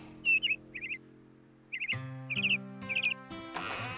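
A small cartoon bluebird chirps in several quick bursts of bright, warbling tweets, close and clear, set over sustained background music.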